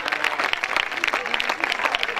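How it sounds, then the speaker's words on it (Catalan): Audience at a local sports awards night applauds the award winners: dense, steady clapping from a crowd that continues throughout, with a voice talking over it. "Vinga, un fort aplaudiment per ells"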